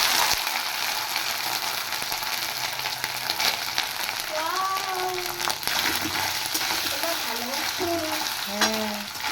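Chopped coconut fries in a pan, giving a continuous moderate sizzle with scraping stir strokes and a few faint voices in the background.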